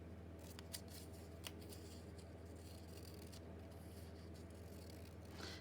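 Scissors snip through paper while a journal title is trimmed, a faint close-up series of crisp cuts with a couple of sharper clicks over quiet room hiss.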